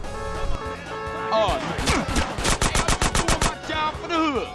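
Weapon fire in Grand Theft Auto: San Andreas, a loud rapid burst of automatic shots in quick succession, following a whooshing sweep and ending with a descending whine, with no talk over it.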